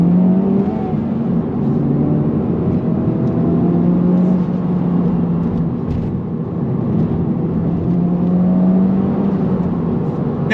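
A 2023 Honda Civic Type R engine revs under throttle, a loud, sustained in-cabin drone whose pitch slowly rises and dips as the car pulls.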